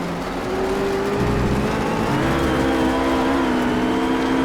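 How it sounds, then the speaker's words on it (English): A RUF GT3 race car engine in the Project CARS racing game at Catalunya, droning loudly and steadily with pitch shifting as it revs and changes gear, heard alone without talk. "My own engine sound is pretty loud."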